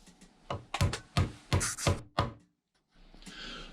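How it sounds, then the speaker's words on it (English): Wooden dowels knocked into holes in a wooden frame with a mallet, a quick series of about six sharp, close thunks followed by a brief pause and a soft hiss, with no talking. "I knock in the first dowel and then the second one."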